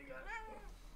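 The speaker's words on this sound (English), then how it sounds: "This is a cute little kitty." A pet cat gives a short, soft meow, faint and brief, heard alone against low background hum.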